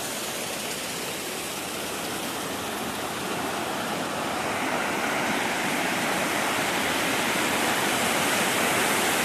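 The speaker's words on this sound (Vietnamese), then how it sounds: "nước suối chảy to lắm rồi" A mountain stream flowing strongly at the source of the Năng River in Cao Bằng, a loud continuous rushing roar heard close up that swells slightly over time, with no voices.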